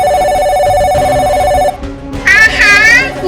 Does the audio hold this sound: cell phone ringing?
yes